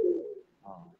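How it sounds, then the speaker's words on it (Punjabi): A black-faced Sialkoti pigeon gives a short, soft coo, a low throaty note and then a quieter rolling second phrase, heard alone up close. "ਕਾਲੇ ਮੂੰਹ ਵਾਲਾ ਗਾੜਾ ਕਬੂਤਰ ਆਇਆ ਜੀ ਦੋਸਤੋ"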